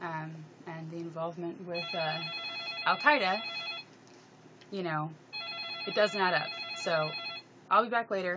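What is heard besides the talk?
telephone ringing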